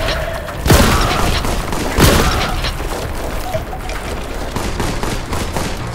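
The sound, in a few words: shotgun firing in the video game Warhammer 40,000: Boltgun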